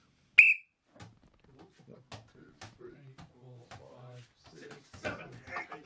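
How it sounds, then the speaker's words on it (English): One short, sharp whistle blast near the start signals the beginning of an attempt, followed by people chatting nearby. "Whistle."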